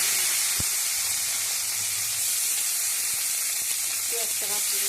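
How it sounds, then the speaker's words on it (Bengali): Onions frying in oil in a pan, a continuous close hiss of sizzling with a few faint clinks and soft background sounds. "আলুটা তুলে নিয়ে এবার আমি পেঁয়াজটা দিয়ে দিই। পেঁয়াজটা ভাজতে দেবো।"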